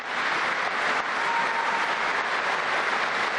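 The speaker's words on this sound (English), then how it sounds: "His comments clearly receiving loud applause and now a standing ovation." Loud, sustained applause fills a large hall as the audience rises in a standing ovation for a speech at a Russia–Crimea reunion ceremony, steady and unbroken throughout.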